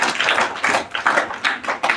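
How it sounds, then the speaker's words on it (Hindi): Schoolchildren clap together at a government middle school during a nutrition and health session, the claps coming in several bursts of dense, uneven clatter over roughly two seconds, fairly close. "तालियां इसके लिए, सब तालियां बजाओ।"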